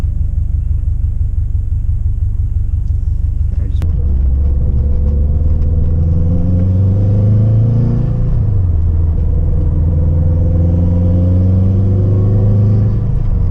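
Car fitted with an Invidia bellmouth downpipe driving along, a loud, steady low engine drone and road rumble filling the cabin, with the pitch rising and falling as it accelerates and shifts.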